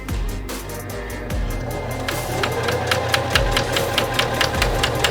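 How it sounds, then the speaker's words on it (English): A sewing machine stitches along the edge of a tote bag pocket, its motor running steadily with a rapid, close mechanical knocking throughout. "Just guiding it under the presser foot. And we're gonna sew off that edge."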